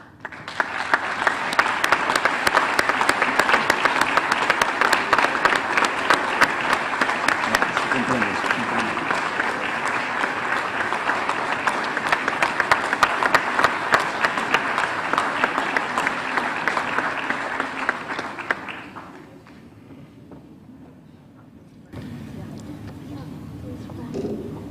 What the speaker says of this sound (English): stand up and give them a hand of applause